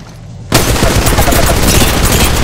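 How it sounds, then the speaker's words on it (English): Loud gunfire in Apex Legends Mobile erupts suddenly after a quieter moment, then continues as a dense, close, rapid stream of overlapping shots and bursts. "Getting shot at."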